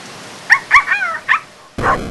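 A cartoon pug barks in the Turbo Pug video game: several short, bright yips in quick succession, then a louder, rougher bark after a brief pause, clear and up front with no talking.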